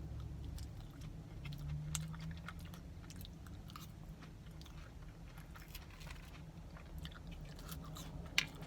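Someone chews crispy Taco Bell buffalo chicken nacho fries close to the mic, quiet repeated crunching and mouth sounds, with one sharper crunch near the end.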